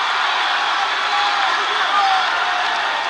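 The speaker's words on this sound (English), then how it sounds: "Listen to this crowd." A crowd at a women's MMA fight roars in a steady, dense wash of cheering and shouting, loud and continuous, with a commentator's voice partly mixed in.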